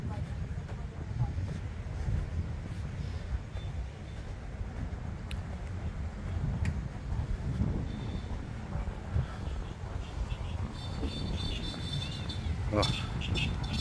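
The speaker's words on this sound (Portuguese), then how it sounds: "O vento está mudando tudo. O ambiente aí, tá? O vento nordeste." Northeast wind gusting across a sandy beach on a lagoon, a steady low roar of buffeting air on the microphone that holds throughout, with a brief sharper gust near the end.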